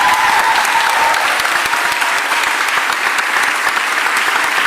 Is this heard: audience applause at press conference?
yes